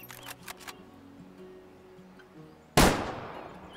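Single long-range rifle shot in the hunting game Way of the Hunter, a sharp loud crack near the end after a quiet stretch, followed by a brief decaying tail.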